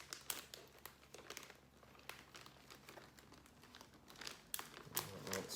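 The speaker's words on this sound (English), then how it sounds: "and zip it up real tight." A plastic zip-top bag holding pork in cha siu marinade crinkles and rustles close up in a run of sharp, irregular crackles as it is pressed and sealed tight, with no talking.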